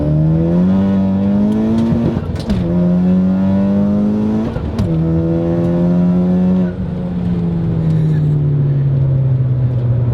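A loud big-turbo Honda Civic Type R engine revs hard nearby, pitch climbing through several gear changes with brief dips between shifts, raspy and sustained.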